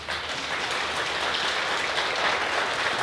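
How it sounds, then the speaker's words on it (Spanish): A church congregation applauds together in a steady, dense wash of clapping that fills the space evenly for the full stretch, with no voices rising above it. "¿Puede dar un aplauso al Señor?"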